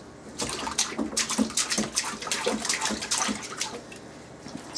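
A baby splashing water in a bathtub, irregular bursts of close splashes and drips over several seconds, with no voices.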